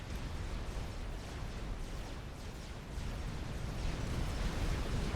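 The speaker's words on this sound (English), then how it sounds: "Currently just firing regular cruise missiles." Cruise missiles launching in the real-time strategy game Supreme Commander during a custom 4v4 battle, a continuous low roaring rumble of stacked launches that stays steady and swells slightly midway, with no talking.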